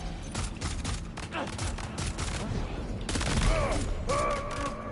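Assault rifle fire in the video game Death Stranding 2, several rapid bursts of shots close and loud, mixed with mechanical clatter and game sounds.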